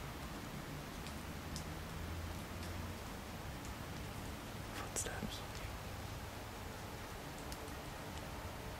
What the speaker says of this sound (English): I know there's a lot of noise from the raindrops